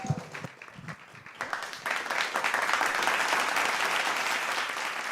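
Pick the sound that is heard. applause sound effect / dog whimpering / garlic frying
applause sound effect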